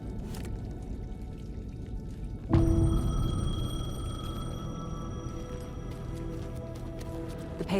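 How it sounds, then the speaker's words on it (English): A payphone rings in the video game Alan Wake 2, a sustained electronic tone that starts abruptly partway through over a low, murky ambient rumble and carries on steadily to the end. "The payphone was ringing."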